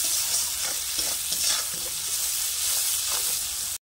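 A paste of ground green chili and spices with Kashmiri chili powder stir-fried in oil, a loud, close, continuous sizzle with scraping stirs, cutting off abruptly near the end, and no talking.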